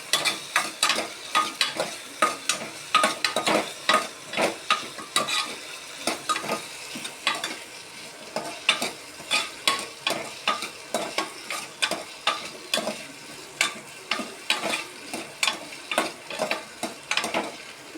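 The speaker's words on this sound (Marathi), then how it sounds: "बटाटा टाकून घेऊया थोडासा बटाटा फ्राय करायचा" Potatoes fry in a pan for a homemade khichdi, with a low frying hiss under a long run of regular, close scraping and clinking stirring strokes, one every half second or so, and no voices.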